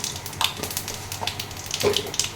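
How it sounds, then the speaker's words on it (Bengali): Cumin seeds sizzle in hot oil in a wok, a close, fairly quiet crackling hiss with scattered small pops and light scraping at an uneven rhythm, no voices. "এবার তেলের মধ্যে আমি হাফ চামচের থেকে একটু কম জিরে ফোড়ন দিয়ে দিলাম।"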